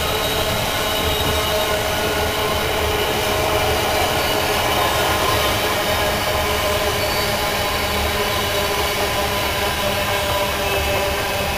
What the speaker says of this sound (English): We are class 66 locomotive now, about to pass Needham Lake.